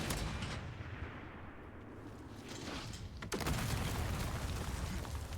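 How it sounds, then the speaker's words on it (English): A mortar fired at rubble in Resident Evil Requiem: a dense, rumbling wash of noise, then one sharp blast about two-thirds of the way through, followed by louder continuing rumble. "Can I destroy the rubble with this mortar?"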